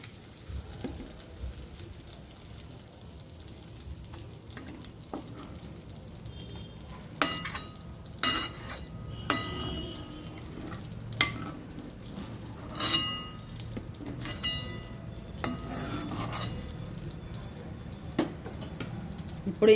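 Ingredients for coriander chutney fry in oil with a soft, continuous sizzle under repeated close clinks and scrapes from a stirring utensil against the pan.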